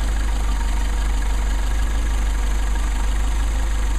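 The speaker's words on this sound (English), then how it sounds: "Still have a pretty decent idle, about 800." A Mercedes 190SL idles at about 800 rpm during carburetor testing, a steady, loud, even engine drone with a regular low-frequency pulse that stays constant for the whole stretch, with no talking.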